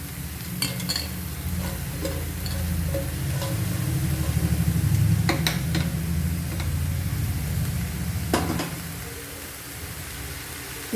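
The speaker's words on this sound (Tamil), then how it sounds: "இது நல்லா இந்த எண்ணெயில் வதங்கி வரட்டும்" Spinach greens sizzle and sauté in hot oil with a steady crackling hiss, while occasional clinks and scrapes of a utensil stirring the pan ring out.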